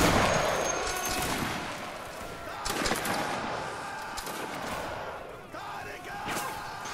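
Highlander infantry in a Napoleonic Waterloo battle game fire musket volleys, loud crackling bursts that roll out over a noisy battlefield, with shouted commands and voices mixed in.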